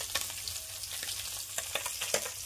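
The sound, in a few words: frying cabbage in a pan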